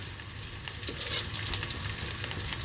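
Chinese sausage (kun chiang) stir-frying in a pan for a vegetable stir-fry: a dense, steady sizzle with busy crackle and the occasional scrape of stirring, close and continuous, with no talk.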